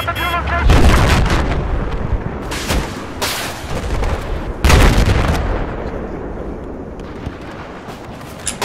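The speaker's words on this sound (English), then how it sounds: "There's a hostile machine gunner" Loud gunfire and heavy blasts from a Battlefield 4 firefight in close-quarters combat on the Gulf of Oman map, with bursts near 1 and 5 seconds amid continuous battle noise.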